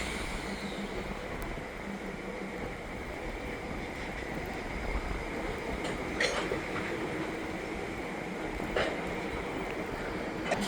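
CN Geep diesel locomotives switching cars with an old GTW caboose at Pointe St Charles rail yard on a rainy, windy day, a distant steady engine rumble under wind and rain noise with a few faint clanks.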